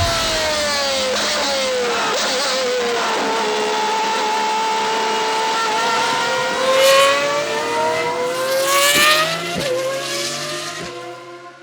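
A Pagani Huayra R Evo Roadster's engine revs hard through several rising sweeps and gear changes, a loud, close, screaming tone with sharp shift breaks and a final surge, heard alone without talk.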